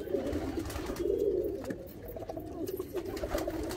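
Close, continuous low cooing from Andhra high flying pigeons in a West Bengal loft, several birds burbling in overlapping rhythmic phrases with small rustles between them.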